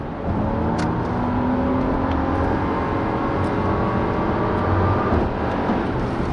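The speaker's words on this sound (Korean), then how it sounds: "RPM이 끊기지 않고 끝까지 밀고 올라가면서 속도를 계속 올리고 있습니다." A 2016 Lexus RX450h hybrid SUV accelerates hard with no gear shifts, its engine note rising steadily as speed builds, a continuous loud in-cabin drone with road rumble underneath, no talking.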